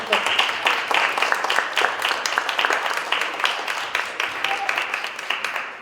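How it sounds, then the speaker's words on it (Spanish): Applause from a lecture audience at a university talk, a dense, steady patter of many hands clapping throughout, fairly close and sustained without a break. "a quien le pido un enorme aplauso"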